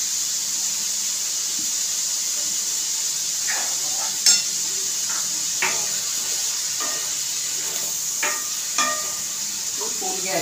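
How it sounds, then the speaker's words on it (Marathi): Paneer cooking on full gas in a pan, a steady moderate sizzle with scattered light stirring scrapes and a few clinks of the utensil against the pan, close and even throughout. "फुल गॅसवर पनीर करते."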